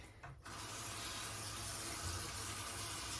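Tap water runs steadily into a sink while a makeup brush is rinsed, a continuous close hiss of flow that starts just after a brief opening and holds to the end, with no talking.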